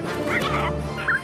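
Animated birds in the Minecraft video game give short, nasal clucking and gobbling calls, a few quick squawks in a brief burst, close and fairly loud with no speech.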